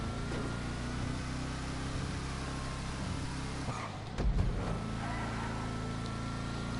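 A Vapid Ellie muscle car lapping a track in GTA Online, its engine holding a steady droning hum with a brief dip and surge partway through as it works a curve.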